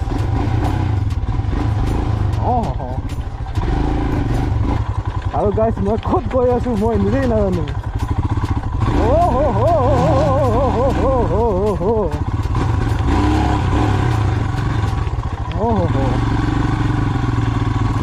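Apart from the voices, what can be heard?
Royal Enfield motorcycle riding off-road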